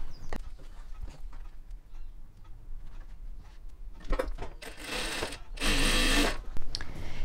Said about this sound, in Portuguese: eu vou pegar os quadradinhos e vou costurar um quadradinho em cada uma das pontas dessas faixas